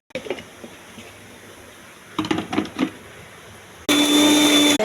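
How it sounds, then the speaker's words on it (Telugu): A kitchen mixer grinder blends fresh mint into a paste, starting after some quiet handling and jar clatter with a loud, steady whirring motor burst at the end. "పుదీనా అంతా మిక్సీ జార్లో వేయాలండి"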